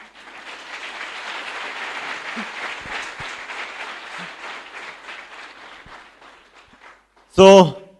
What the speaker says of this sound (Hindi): जब किसी भी काम को करना पूरे दिल से करना है तो तालियां भी मारनी तो पूरे दिल से मारनी है।